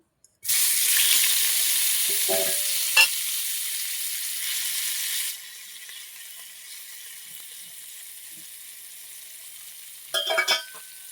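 Pieces of rohu fish, rubbed with salt and turmeric, drop into hot oil with a loud burst of sizzling. The frying settles to a steady hiss, with a few clatters of utensils and a short splash of running water near the end.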